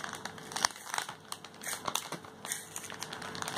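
A pencil turning in a handheld sharpener with a waste-catching container, giving a close, steady crinkly scraping with small crackling bursts throughout.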